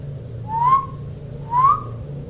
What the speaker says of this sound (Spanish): Alguien silbó entre los árboles.